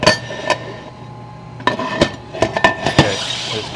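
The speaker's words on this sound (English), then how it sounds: "Now I gotta get a hammer, punch them all out." A hammer and punch knock cut rivets out of a 2019 Toyota RAV4 Hybrid flywheel clutch damper, giving sharp metallic clanks and clinks in irregular close strikes, busier toward the end.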